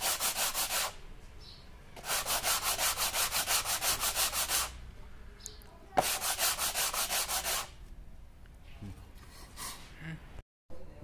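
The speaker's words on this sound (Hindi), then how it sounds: "इसको हल्का सा पेपर से सीधा घिस लेंगे हम," Sandpaper rubs back and forth on wood while a side rabbet plane is being made, three bursts of quick rhythmic strokes separated by pauses, close and fairly loud, with some breathing between passes.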